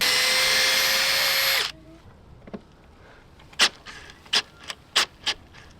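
A power sander running on epoxy on a boat gives a loud, steady whir that cuts off abruptly, followed by a few scattered knocks and taps.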